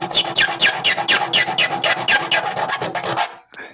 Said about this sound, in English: Bloody hard work drilling these square holes.